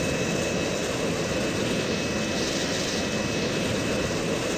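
Steady, loud roar of a jet fighter's engine in the Strike Fighters flight game, a broad continuous rush with a faint whine, unbroken and close.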